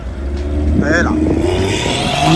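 A BMW X3 M40 engine revs near at hand among modified cars, a brief rising and falling rev under a background of voices.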